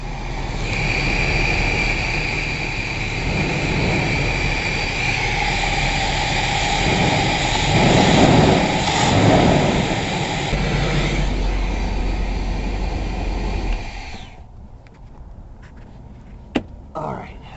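The engine of an RV idles after its idle speed was turned down, giving a loud, steady droning rumble up close that drops away abruptly near the end, leaving quieter background noise and a few knocks.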